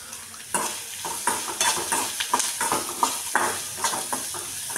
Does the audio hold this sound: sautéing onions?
yes